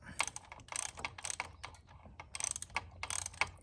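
A ratchet socket wrench clicks in quick, close bursts while tightening the shift linkage on a Dyna motorcycle in a garage, with short pauses between strokes.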